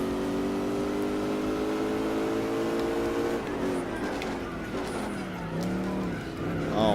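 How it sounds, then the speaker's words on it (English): A Buick Special spinning its wheels in Gran Turismo 4, a steady engine drone with tire squeal that rises and swoops in pitch as the revs change, moderately loud and continuous throughout. "Okay, a lot of wheel spin."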